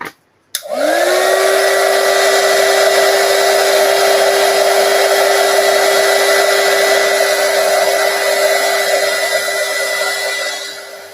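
Electric heat tool blowing hot air to set colors on craft paper flowers, a steady loud whirring hiss that starts abruptly and runs continuously for about ten seconds before easing slightly at the end.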